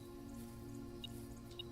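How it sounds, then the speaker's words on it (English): Faint water drips in the Blue Prince video game, two small droplet plinks a half-second apart over a steady droning background hum. "You hear the little dripping sound?"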